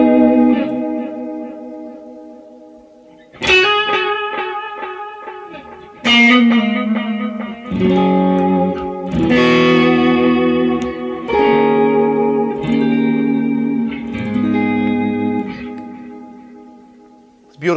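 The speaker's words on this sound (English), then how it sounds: "it modulates a little like the real space echo" Guitar through a TC Electronic Flashback X4 delay pedal in Space Echo mode: a series of strummed chords and notes, each followed by gently modulated, wavering echo repeats that blur into one another, loud and up front.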